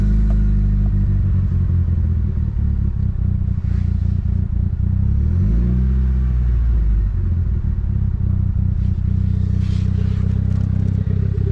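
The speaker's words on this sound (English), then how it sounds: "I'll put in a little clip of it, a cold start." Mitsubishi Lancer Evo IX running at cold start on a 3-inch Tomei catless exhaust, a loud, steady deep idle rumble that dips briefly and recovers, alone without talk.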